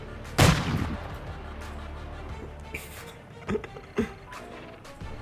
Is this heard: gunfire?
yes